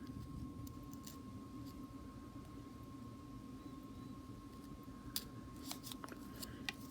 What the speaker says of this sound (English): just take your scissors and trim it off